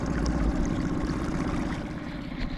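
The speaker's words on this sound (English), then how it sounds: "is how shallow it can get while you're idling through." A custom Gheenoe LT boat with a 10-horsepower outboard idles through shallow water, giving a steady, close, low motor rumble mixed with churning water, with no talk.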